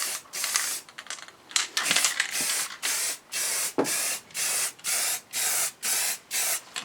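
Spray gun laying paint coats onto a Triumph motorcycle bash plate, heard as a run of evenly spaced hissing bursts, each about half a second long with short gaps between, close and steady.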